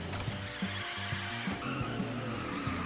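Kart drifting in the Disney Speedstorm racing game: a steady engine drone with tire-squeal tones that shift pitch through the slide, continuous and moderately loud, with no talk.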